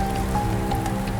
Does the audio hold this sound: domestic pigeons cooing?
no